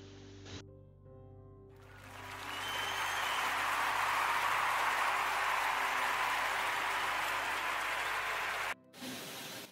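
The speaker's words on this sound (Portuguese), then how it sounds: "Eu quero pedir a todos uma salva de palmas" Applause in a radio podcast studio, a steady hiss-like clapping that rises, holds for several seconds at moderate level, then cuts off abruptly.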